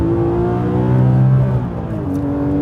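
A Porsche GT3 RS 4.0 at Silverstone holds a steady, close engine note through a corner, its harmonics shifting slightly as the revs ease and then settle, with no voices.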